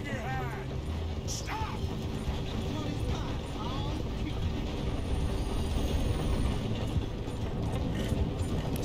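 A train runs in Red Dead Redemption 2, giving a continuous close mechanical rumble with clanking, ratcheting clatter and a few squeals, while voices speak briefly over it.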